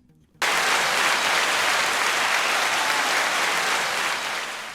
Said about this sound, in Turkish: bu alkış az oldu